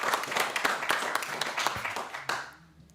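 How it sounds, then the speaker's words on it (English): Audience applause at a community singing session, a brief burst of mixed clapping from a small group that thins out and fades within a few seconds. "Let's have a big round of applause to Jacob."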